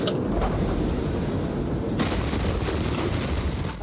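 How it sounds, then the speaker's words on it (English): Rapid crackling bursts of fireworks go off in a dense, continuous barrage at a port just before a massive ammonium nitrate explosion. The popping is rough and distant-sounding, with a sharper surge partway through. "you can see white flashes, what appear to be fireworks, going off before the massive explosion"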